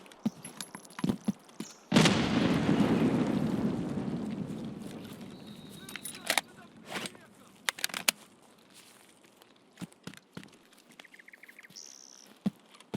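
A grenade explodes in the Escape from Tarkov video game with a single loud boom that tails off over several seconds, followed by scattered faint clicks and small noises.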